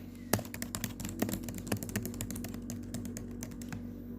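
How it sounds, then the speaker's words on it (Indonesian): Rapid typing on a computer keyboard at a bank customer service counter, a quick irregular patter of key clicks, close and steady but fairly quiet, with no speech. "Baik Bapak Herman, saya input terlebih dahulu ya Bapak."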